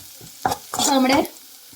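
Shallots and chillies fry in a pan for chammanthi, heard as a brief, close burst of stirring: a couple of quick scrapes followed by a longer grating sweep over a faint sizzle.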